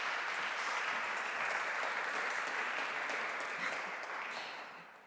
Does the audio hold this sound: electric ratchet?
no